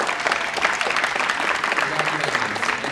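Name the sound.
audience applause at city council meeting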